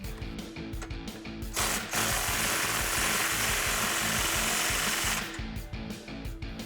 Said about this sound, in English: we're going to tighten up our clamp here on our muffler with my 15mm and my impact gun